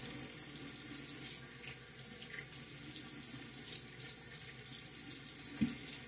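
Tap water runs steadily into a sink while a man rinses his face after a wet shave with a Gillette Nacet blade and Midnight Stag soap, a continuous close splashing hiss with one brief louder splash near the end.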